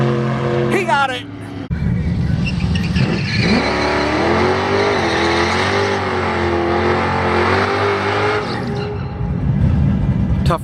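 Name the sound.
drag racing car accelerating down the quarter mile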